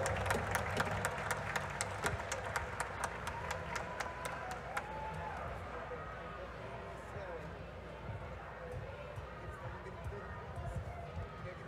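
Audience at a packed political event in São Paulo clapping in a brisk run of distinct claps over the first few seconds, with a speaking voice and room murmur continuing after the claps fade.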